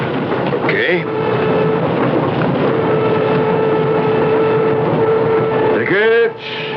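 Commuter train ride staged as a sound effect in a 1970s CBS radio mystery drama, a steady rumbling, rattling roar with a sustained tone and a rising whistle-like sweep near the end, loud and continuous.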